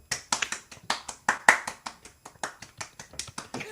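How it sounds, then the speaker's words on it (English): A small group of three people clapping for Anthony Hopkins, close and sparse, the individual claps distinct and uneven over a few seconds. "give him a round of applause"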